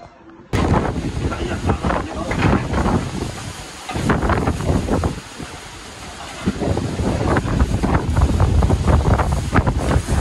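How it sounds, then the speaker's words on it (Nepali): Strong, stormy wind roars continuously and loudly across an outdoor microphone ahead of coming rain, with the gusts swelling and easing over several seconds. "हुरी बतास खत्तम आउन लाग्छ होइन।"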